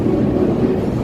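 A Chicago elevated train rounding the bend on Lake Street from Wabash, giving a loud, close, steady rumble of wheels on track with no break and no voices.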